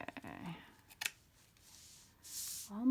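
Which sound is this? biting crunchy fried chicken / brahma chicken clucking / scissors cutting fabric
scissors cutting fabric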